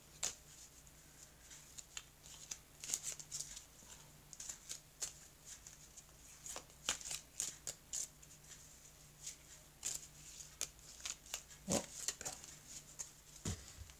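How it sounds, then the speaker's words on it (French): Heart-shaped playing cards being shuffled by hand, a run of quick, crisp riffling flicks and taps at close range with no talking. "on a cette carte en forme de cœur qui n'est pas simple à manier, hein, et pas simple non plus à battre"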